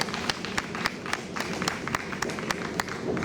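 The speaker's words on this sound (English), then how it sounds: "give them another round of applause" Audience at a Wear Orange gun-violence awareness event applauding survivors, a modest steady patter of clapping with some sharper individual claps standing out at a regular pace, moderately near.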